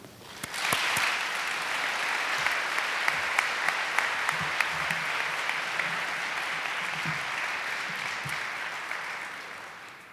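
Sustained applause from an audience greeting speaker Dwan Prude at a Martin Luther King Jr. tribute event, steady clapping for about ten seconds with a few louder claps and no talk.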